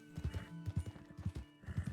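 Hooves clip-clop in quick bursts of steps in the Red Dead Online video game, with a horse's whinny rising through the middle of the gait.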